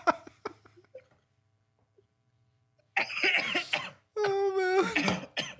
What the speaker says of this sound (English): I'm laughing so hard that my smoker's cough is coming out